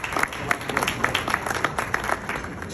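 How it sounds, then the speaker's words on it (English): Audience clapping for MP Iqra Khalid at an Erin Mills gathering, a moderate crowd applauding steadily with dense overlapping claps and faint voices mixed in. "you can clap for her"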